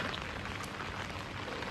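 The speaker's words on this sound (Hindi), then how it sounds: "और बारिश भी हो रहा है उसी में साथ साथ" Steady rain falls outdoors in Varanasi during the Ganga flood of 2025, a dense, even hiss of drops on surfaces that stays constant and fairly loud throughout with no voices.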